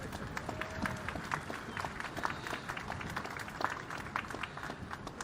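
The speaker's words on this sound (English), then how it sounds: "How about a hand of applause for the chap?" An outdoor audience at a US Navy guided-missile destroyer commissioning ceremony applauds the chaplain, with scattered, moderately distant clapping carried on light wind, lasting several seconds.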